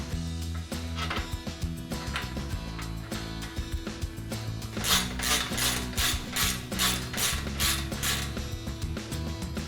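Ratcheting and mechanical clicking while bolts are tightened during a MODZ tower top installation on a Club Car Precedent golf cart, a steady run of close creaks and rhythmic ratchet strokes over a layered mechanical background.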